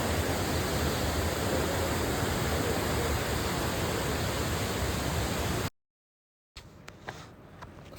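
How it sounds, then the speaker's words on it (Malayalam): A forest waterfall rushes below a small footbridge: a loud, steady, broadband roar of churning water that cuts off abruptly, followed by a much quieter stretch with a few faint knocks. "താഴെ നല്ല കുത്തെടുക്കുന്ന വെള്ളച്ചാട്ടം പൊയ്ക്കൊണ്ടിരിക്കുകയാണ്"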